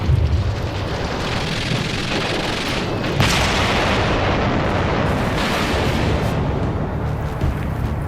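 Demolition charges and artillery fire around fortified gun turrets at a Second World War fort, a sustained rumbling barrage with a heavy blast near three seconds and another swell later, loud and dense throughout without speech.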